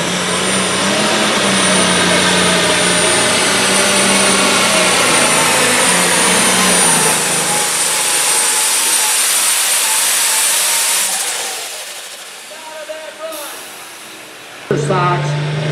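A pulling tractor at a county fair tractor pull roars at full power, a loud sustained engine blast with turbine-like whine that fades out toward the end, with an announcer talking over it.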